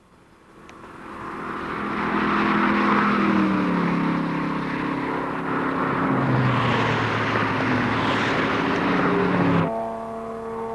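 Race cars at Summit Point Raceway, West Virginia, a Mustang among them, roar past on the track as a loud sustained engine drone that rises and shifts in pitch, then cuts off near the end.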